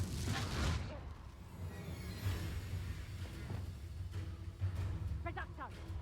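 Blasting-curse explosions in a Harry Potter dark arts video game, low booming blasts that rumble and thud repeatedly at moderate distance under a voice shouting spell names.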